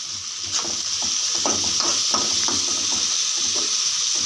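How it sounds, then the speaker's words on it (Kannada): Salted tomatoes frying over a low flame give a loud, continuous close sizzle, with a steady run of stirring scrapes from a spatula in the pan. "ಟೊಮೊಟೊನು ಚೆನ್ನಾಗಿ ಫ್ರೈ ಆಗುತ್ತೆ."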